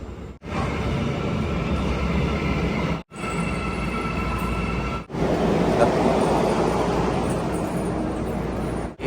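A metropolitan underground subway train rumbles loudly and continuously nearby, with brief breaks in the roar and a rising rush toward the end.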